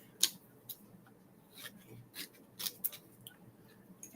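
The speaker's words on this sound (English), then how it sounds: "So I'm just going to go ahead and grab my scissors." Scissors snip in quick, irregular crisp cuts, fairly quiet and close, with several separate snips spread across a few seconds.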